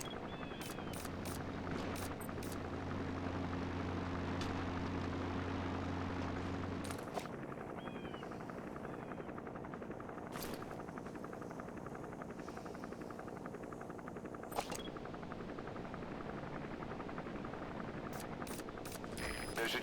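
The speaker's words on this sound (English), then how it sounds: "There's a chopper landing." A helicopter landing in Metal Gear Solid V gives a steady droning rotor hum. A low tonal layer cuts out about a third of the way through, and scattered faint clicks sit over the continuous noise.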